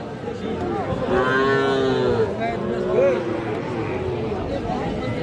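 Cattle, including young bulls and heifer calves, low repeatedly at the Aftabganj livestock market, several drawn-out moos standing out over a steady crowd murmur and nearby talk.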